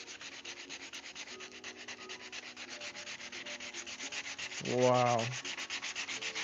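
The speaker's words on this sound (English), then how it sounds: "we just started sanding" Rhythmic back-and-forth sanding strokes on wood, close and steady, with a short exclaimed word from a voice partway through.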